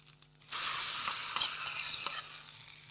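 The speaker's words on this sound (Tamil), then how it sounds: "கிளறி விட்டுக்கலாம்." A spoon stirs Madurai-style mutton kulambu simmering in a pan, giving a soft sizzle with a few distinct scraping clicks, quiet and close with no voices.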